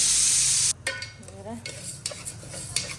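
Ingredients fry in ghee in a cup-sized pan, a steady loud sizzle that drops back after a moment, followed by stirring scrapes and light clinks of utensil against the pan.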